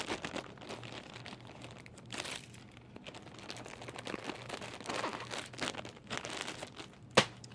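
A plastic poly mailer bag crinkles and rustles up close while a bucket hat is folded and packed inside, a steady scrunching texture that ends with one sharp crackle.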